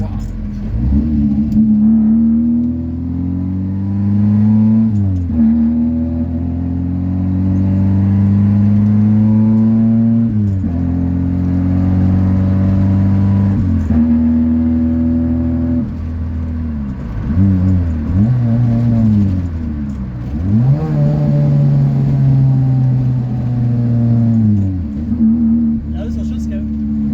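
A Ford Fiesta engine with a poorly running carburettor revs and drops repeatedly, a steady mid-pitched drone rising and falling with uneven surges, loud and close, while people talk over it.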